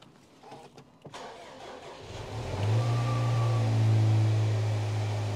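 A 2018 Land Rover Discovery 5 engine cranks briefly after a quiet start, catches, and settles into a steady, loud low rumble with a slight rev.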